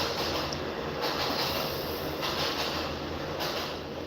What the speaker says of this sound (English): it's a train.